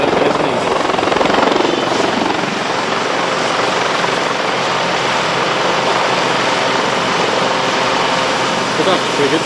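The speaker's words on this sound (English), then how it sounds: "Landing a helicopter on a tiny tilting platform is no easy task" A helicopter landing on the small tilting deck of a Dutch frigate at sea, its rotor and turbine roar loud and continuous throughout with a steady thrumming drone, and a voice talking faintly beneath it.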